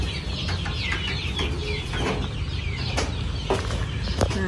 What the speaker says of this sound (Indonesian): ayam-ayam juga, ayam kampung semua yang di dalam.